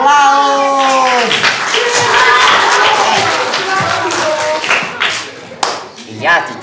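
Audience applause at a spoken performance: a voice speaks over tonal sound at the start, then a burst of clapping follows, with scattered claps and talk toward the end.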